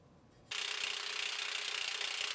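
A ratchet works a nut off the suspension of a 2013 Buick Enclave AWD, a rapid clicking whir that starts abruptly after a brief quiet moment and runs steadily, close and fairly faint.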